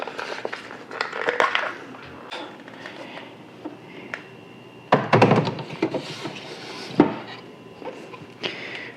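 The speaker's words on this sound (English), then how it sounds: "The next step is to unwrap the filter housing and install it into the Model 6." Packaging around a water filter housing for a tankless RO system is unwrapped close by, giving crinkly rustling, tearing and intermittent crunchy thumps in two busier bursts, with no speech.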